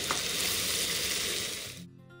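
Meat being fried down in a pan, a close, steady crackling sizzle that runs for under two seconds and then cuts off abruptly, leaving faint background hum; no talking.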